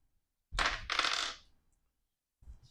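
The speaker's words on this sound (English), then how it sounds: "Move the dice out of the way." Dice slide and clatter across a tabletop during a savings game, a close burst of rattling lasting about a second, then a brief softer clatter after a pause.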